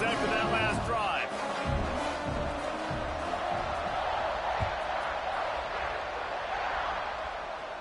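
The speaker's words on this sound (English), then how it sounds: "this crowd is feeling themselves after that last drive" A stadium crowd roars in a college football video game, a broad, loud wash of cheering that stays steady throughout while a commentator talks over it.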